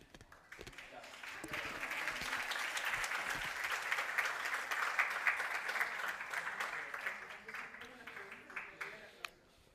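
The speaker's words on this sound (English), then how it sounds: "I forgot about the applause." Sustained audience applause fills the room after a conference keynote, steady clapping from a crowd that swells and holds for several seconds before tapering off.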